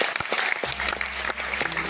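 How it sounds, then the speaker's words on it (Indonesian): An audience at a children's operetta staged by UKI literature students bursts into dense, lively applause, loud and sustained with sharp individual claps throughout, and a low hum underneath. "Tepuk tangan untuk Indonesia."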